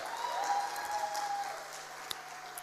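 A church congregation claps and cheers in praise, a sustained wash of applause filling the room for a couple of seconds.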